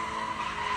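A sports car's tires squeal in a continuous loud skid as it burns out in circles at a skatepark, a steady high screech lasting under a second with no talking.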